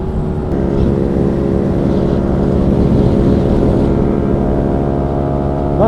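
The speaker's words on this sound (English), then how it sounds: "That exhaust is doing wonders for that bike." A motorcycle engine with an aftermarket exhaust drones loudly and steadily nearby, a sustained rumbling tone that holds for several seconds without speech.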